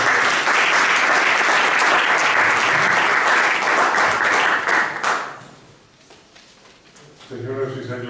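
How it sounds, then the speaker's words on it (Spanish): Applause breaks out from the audience at a book presentation for El Profeso y los Borgias in Madrid, loud and dense for about five seconds before fading; a voice begins speaking near the end. "Y por supuesto también se merece un aplauso, ¿no?"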